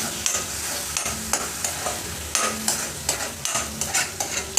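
Spice masala roasting in a pan for a drumstick (moringa pod) vegetable dish. Regular, rhythmic spatula strokes scrape across the pan over a steady, close sizzle, with no voices.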